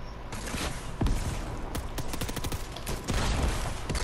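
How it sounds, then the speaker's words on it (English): Rapid gunfire in the video game Fortnite crackles in dense, overlapping bursts, with louder volleys near the one- and three-second marks and a steady din of shots throughout. "Okay, they're shooting at me."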